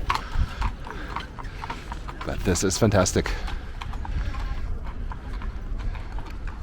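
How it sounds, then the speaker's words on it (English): Horse hooves clip-clop on the street as fiacre carriages pass the Hofburg in Vienna, a rhythmic clatter building midway under city ambience while someone talks throughout. "with the horses and the fiacres going by."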